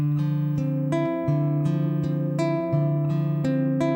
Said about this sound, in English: So the bossa nova pattern with a finger picking pattern, it sounds like this.